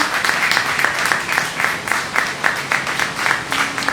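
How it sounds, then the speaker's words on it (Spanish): A church congregation claps in a quick, steady rhythm, close and loud, a brief burst of praise applause with no talk. "vamos a darle un aplauso al Señor porque Dios es bueno."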